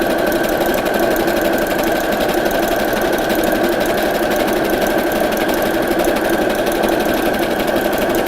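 Burlap hessian bunting is sewn on a machine that runs in one continuous, close, loud stream of fast rhythmic stitching with a steady mechanical hum and no pauses or talk.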